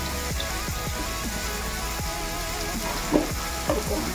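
Two dried red chilies hit hot oil in a home kitchen pan, giving a steady close sizzle with sharp crackling pops scattered throughout and a louder burst near the end.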